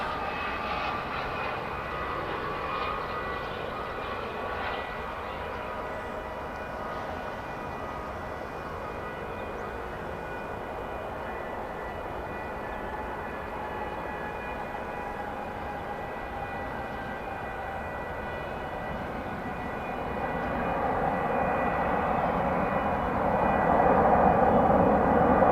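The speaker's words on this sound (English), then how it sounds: "We've got a UPS cargo aircraft about to come into our view." A UPS cargo jet approaches DFW Airport on a clear morning, its engine roar steady and broad, growing louder toward the end as it nears.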